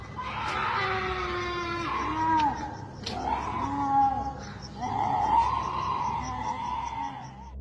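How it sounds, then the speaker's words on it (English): Drawn-out high wailing shrieks from an unseen person or creature outdoors at night, several long rising and falling cries in a row, loud and fairly close, with no talking. "the night air is filled with the chilling sounds of blood-curdling screams"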